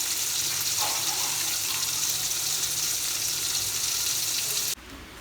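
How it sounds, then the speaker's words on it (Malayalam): Fish frying in a pan, heard as a steady, close hiss of sizzling oil that runs unbroken and then drops off abruptly near the end. "അപ്പോൾ അതേ അപ്പുറത്ത് മീൻ പൊരിക്കുന്നുണ്ട്."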